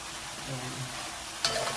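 Milkfish (bangus) marinated in lemon and soy sauce fries in a pan, giving a steady hissing sizzle with a sudden louder burst of spitting oil near the end, close up and without talk.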